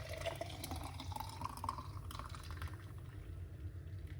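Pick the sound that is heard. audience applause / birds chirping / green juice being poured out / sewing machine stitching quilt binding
green juice being poured out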